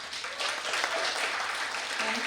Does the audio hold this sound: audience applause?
yes